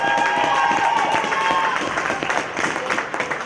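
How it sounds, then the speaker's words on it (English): Crowd applause for the coaches at a youth hockey championship trophy ceremony, a sustained wash of clapping from a fairly close crowd that gradually thins toward the end. "Huge round of applause to the coaches for their hard work."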